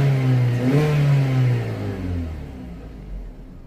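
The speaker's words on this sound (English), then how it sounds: "Let's just give it a few revs." A Vauxhall/Opel Insignia 1.8 engine, running lean with fault code P0171, revs up sharply, holds a loud roaring note for a moment, then settles back down to a low idle rumble.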